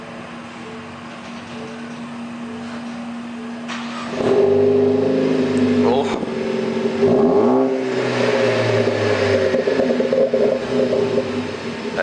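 A 2016 Ford Focus ST with a newly fitted Ford Performance exhaust cranks and fires up for its first start. A quiet hum gives way to a loud catch, then a deep, rumbling idle close by with a couple of small blips and a brief exclamation.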